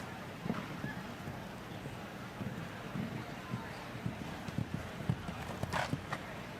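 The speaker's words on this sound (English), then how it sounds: "you have a horse that can really gallop" Rhythmic clip-clop of horse hooves on ground, a steady galloping beat at moderate distance with some wind noise.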